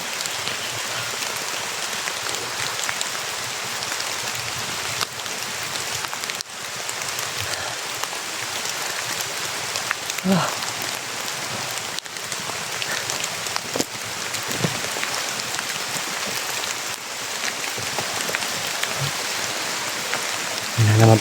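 Steady rain pattering on a surface, a dense continuous hiss with occasional louder drops, no talking.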